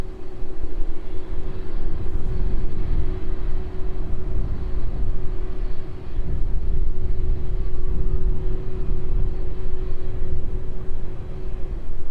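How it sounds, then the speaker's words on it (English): A Saudia Boeing 747 cargo jet landing on runway 09 at East Midlands Airport gives a loud, steady roar of jet engines with a deep rumble and a constant whine running throughout, heard alone. "So onto Saudia, 747 lands in."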